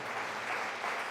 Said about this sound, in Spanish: Fuertes aplausos a nuestro Dios, hermanos.